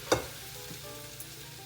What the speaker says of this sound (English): Now we're just gonna mix up all of our sauteed vegetables, herbs, our sauce as well.